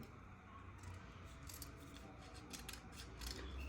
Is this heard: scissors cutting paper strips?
yes